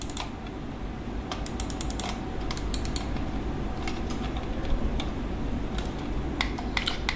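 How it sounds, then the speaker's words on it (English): Typing on a GTX-300 gaming keyboard: a steady run of sharp, close key clicks in irregular rhythm over a low constant background hum, with no talk. "And the keyboard sounds like"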